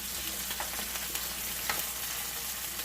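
Sliced mushrooms sizzle steadily in a hot pan, with a few light clicks and scrapes of tongs turning them, no voices over the frying.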